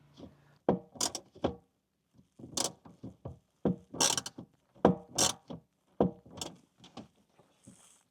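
A hand tool tightens a screw into a plastic fitting inside an RV, a series of separate close creaks and ratcheting clicks in uneven bursts, with short pauses between turns.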